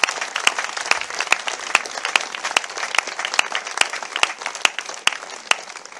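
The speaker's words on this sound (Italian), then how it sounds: "chiedo soprattutto che gli facciamo un altro grande applauso che lo porti nel cuore di questo suo viaggio" Audience applause at a festival presentation in Italy, a dense continuous clapping with sharp individual claps standing out, steady and fairly close throughout.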